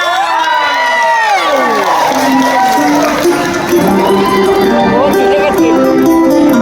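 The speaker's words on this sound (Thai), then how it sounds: "เสียงปรบมือต้อนรับ" A crowd cheers and shouts loudly at a live country music show in a shopping mall, with whoops and children's voices rising over a sustained din and bits of applause, along with talk and singing-like voices throughout.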